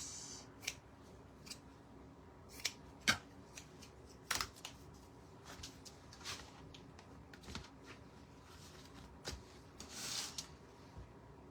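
Scissors snip through craft material for a decorative witch hat, a series of sharp, close cuts scattered irregularly with soft rustling of the material between them.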